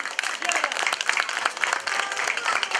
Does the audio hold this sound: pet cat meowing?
no